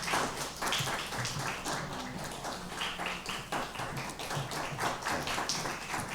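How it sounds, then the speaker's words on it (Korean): A church congregation at a Christmas Sunday worship service claps warmly in an indoor hall, a dense and steady patter of many hands that keeps going for several seconds with no speech over it. "박수로 아주 더 열렬하게 네,"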